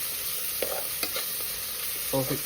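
Onions frying in oil for South Indian chicken biryani, stirred with a spatula in a few scraping strokes over a steady hissing sizzle, close by and with no talk.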